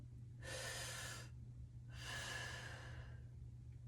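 Two slow breaths in and out through the mouth, each a soft airy rush lasting about a second, with short quiet pauses and a low steady hum in the background.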